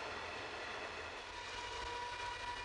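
A heavy-haul iron ore train rolls past on a Pilbara railway, a steady, continuous rumbling roar with a faint sustained tonal whine, heard alone without talk.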